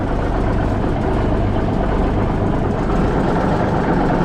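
A heavy truck engine of a White GMC Volvo cabover starts and rumbles steadily at idle, a loud, low, continuous drone with no talking.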